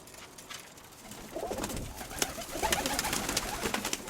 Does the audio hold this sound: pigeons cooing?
yes